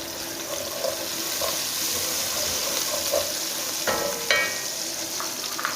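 Onions frying in a pan and being stirred, a steady close sizzle with a few soft scraping stirs and clinks near the end.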